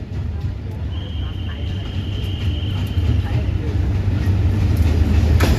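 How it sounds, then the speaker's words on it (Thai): Ordinary passenger train 208 from Nakhon Sawan to Hua Lamphong pulls into platform 4 at Bang Sue Junction in Bangkok. The rail noise rumbles close and steady and grows louder, with a faint high squeal partway through. "ก็มีขบวนรถธรรมดาขบวนที่ 208 จากนครสวรรค์ปลายทางกรุงเทพหานลำโพงนะครับ ผมกำลังเข้าสู่สถานีชุมทางบางซื่อ"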